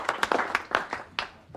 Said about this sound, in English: I'd like to hear a nice big warm round of applause, please, for Norman Penfold and his squeeze box.